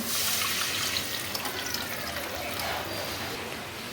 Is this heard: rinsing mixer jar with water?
yes